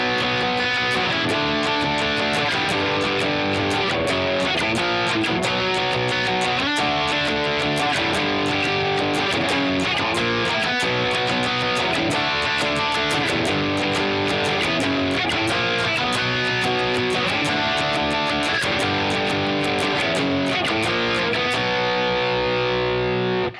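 A distorted electric guitar plays the power-chord riff from a song at a slowed tempo, chugging steady sixteenth notes with occasional skipped notes, loud and continuous throughout.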